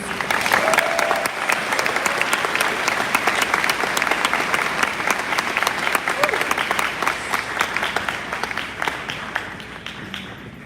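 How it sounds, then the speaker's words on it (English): A crowd at a high school graduation ceremony claps steadily and warmly, a dense sustained applause heard from within the audience that slowly tapers toward the end. "Can we have one big more clap for our Spirit of Cristo Rey winners, please?"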